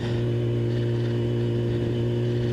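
A Yamaha R6 sport motorcycle idles steadily nearby after a fix that included a new air filter, giving a smooth, even engine drone with no revving and no voices.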